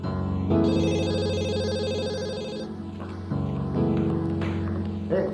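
A telephone rings indoors with a loud, steady electronic melodic ring that repeats in two sustained bursts, alone without voices.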